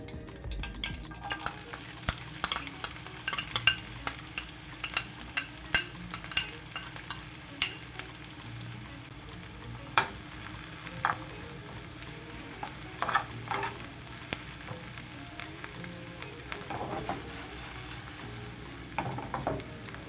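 Onion and ají pepper sauté in melted lard in a pan, a continuous sizzle with frequent spatula scrapes and clicks, close and steady throughout with no voices.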